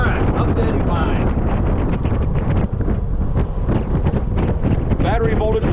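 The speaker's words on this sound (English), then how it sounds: "A lot of wind." Heavy wind buffets a microphone outdoors while riding a Club Car DS golf cart, a constant loud rumbling roar that masks everything else, with faint fragments of voices underneath.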